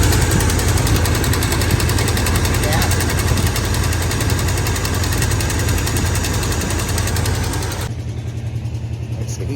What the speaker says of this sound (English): It's the heat riser on the exhaust manifold was broken and it's sitting there rattling.